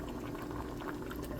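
Water boiling steadily in a covered pot while chicken bistek cooks, a dense, continuous bubbling hiss at low volume with no talk over it.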